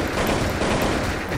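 Grenade launcher fire in a first-person shooter game, a dense rapid burst of loud blasts filling the whole short moment with no pauses.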